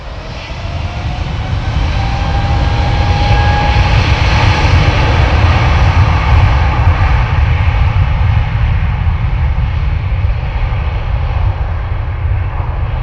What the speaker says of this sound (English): unbelievable sound of them massive engines